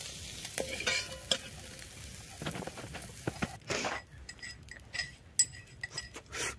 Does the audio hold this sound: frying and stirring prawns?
yes